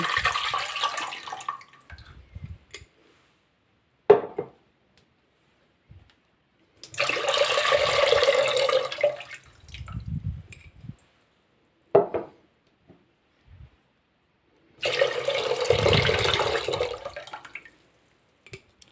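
Water drains out of a jar of tomatoes in three separate bursts, each a few seconds long, with short clinks and knocks of the jar between them.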